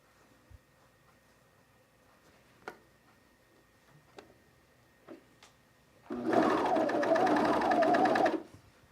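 Sewing machine stitching elastic onto underwear, a steady fast buzzing run of about two seconds near the end, preceded by a few faint isolated clicks and taps.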